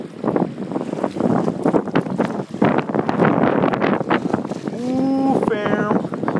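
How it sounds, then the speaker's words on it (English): Strong wind blows hard on an outdoor path, giving a loud, steady roar with gusts buffeting the microphone. A voice speaks briefly near the end. "I know there's a lot of wind."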